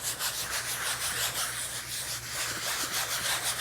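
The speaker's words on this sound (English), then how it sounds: "And let's scrub this." Brush scrubbing a dirty, long-neglected motorcycle seat, a rapid rhythmic back-and-forth rasping sound, close and moderately loud, with no talking.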